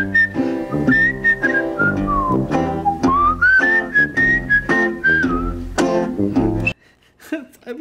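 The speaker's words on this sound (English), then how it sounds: "Melodic that whistle solo is." A melodic whistled solo from a live 1973 blues performance, with the tune sliding across chord changes over steady guitar and band backing, loud and up front before cutting to near silence at the end.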